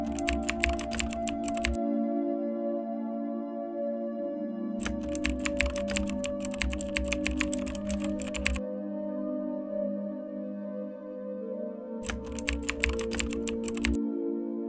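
Computer keyboard typing in steady bursts while parameter values are entered, close and clear, with short pauses between runs of keystrokes over a constant background hum.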